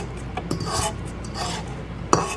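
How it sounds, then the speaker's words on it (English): A spatula scraping down the sides of a mixing bowl of cheesecake batter, a few soft rasping strokes with light clinks against the bowl, close and quiet. "then you scrape the sides down"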